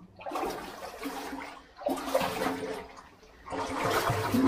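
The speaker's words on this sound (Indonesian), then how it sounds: "Ini itu sungai bawah tanah." An underground river runs through a cave, its water rushing in a steady, fairly loud broadband wash that swells and dips over a few seconds, with no talk.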